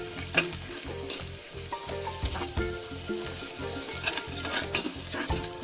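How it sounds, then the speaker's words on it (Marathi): Red chilli powder sizzles and fries in a hot pan as it is stirred for paneer tikka masala, a steady close crackle with repeated rhythmic scraping strokes throughout. "तिखट आपल्याला हवं त्या प्रमाणात टाकायचं. चांगलं परतून घ्यायचं."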